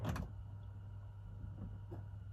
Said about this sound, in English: It sounds like pumps kicking on.